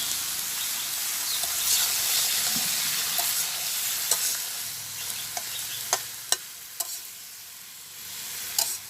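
Freshly picked field vegetables hit hot oil in a village kitchen, giving a soft, continuous sizzle, with sharp clicks and scrapes of stirring growing more frequent toward the end.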